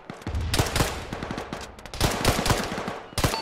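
Heavy machine gun fire in the Arma video game, rapid loud bursts of shots in rhythmic volleys, close and sharp, with brief gaps between bursts.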